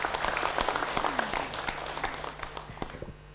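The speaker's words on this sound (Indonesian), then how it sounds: "Kita beri tepuk tangan sekali lagi." A crowd applauds steadily at a community empowerment event in Kudus Regency, Indonesia, many hands clapping in a dense patter that tapers slightly toward the end.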